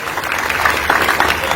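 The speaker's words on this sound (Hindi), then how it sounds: "जोरदार ताली बजाओ अपने भाई नरेंद्र मोदी जी के लिए" A crowd claps loudly and densely at a political welcome event for Madhya Pradesh chief minister Mohan Yadav in Guda Salathia. The applause stays steady and close throughout the short burst.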